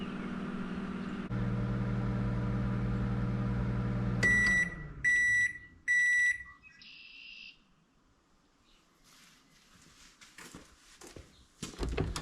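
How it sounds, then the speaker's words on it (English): A microwave oven warming coffee with sugar and milk on a dairy farm: a steady hum runs for a few seconds, then stops with a burst of repeated beeps and a brief chime, followed by quiet handling noises. "I'm just gonna microwave it a little bit."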